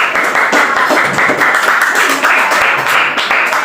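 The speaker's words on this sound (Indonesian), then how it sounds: "tepuk tangan untuk kita semua" Students in a classroom applaud together at the close of a lesson, a loud, continuous patter of many hands clapping close by, with brief taps and murmurs mixed in.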